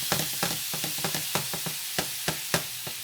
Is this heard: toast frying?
yes